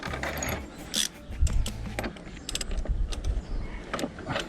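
Metal nut being tightened with a spanner onto a plate and washer while propping up a tilted Unimog camper cab, giving a few close mechanical ratcheting clicks and scrapes in bursts.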